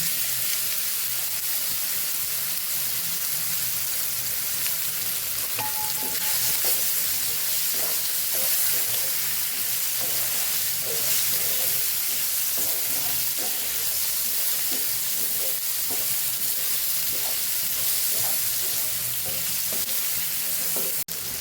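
Raw mango pieces fry with mustard seeds, cumin, asafoetida and turmeric in hot oil. A loud, steady sizzle hisses close by for the whole stretch, with occasional stirring scrapes.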